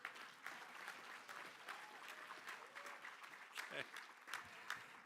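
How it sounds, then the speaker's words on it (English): An audience at a cultural diversity awards ceremony claps in sustained, steady applause, a dense crackle of many hands that carries throughout. "can we all give them a big round of applause?"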